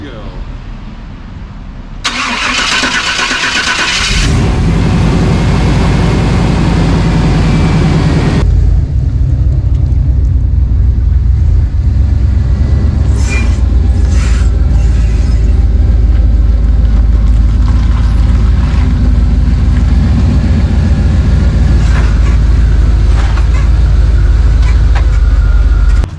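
A GM vehicle's engine, just refitted with a rebuilt electronic throttle-body fuel injection unit, cranks briefly then fires and settles into a loud, steady close idle that runs on throughout.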